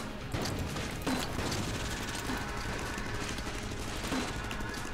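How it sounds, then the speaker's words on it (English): Rapid mechanical clacking and repeated gunfire pops from a grenade launcher in the bullet-hell dungeon game Enter the Gungeon, with a steady dense rattle running throughout at a close, fairly loud level. "we're going to go ahead and use the grenade launcher"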